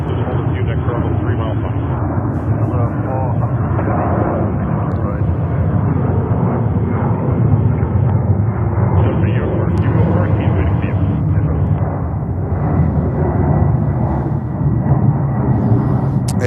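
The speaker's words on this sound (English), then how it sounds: "And we have takeoffs in between as well." Jet airliners take off at JFK airport in New York, a loud, sustained roar of engines spooling up and rumbling, with someone talking over it.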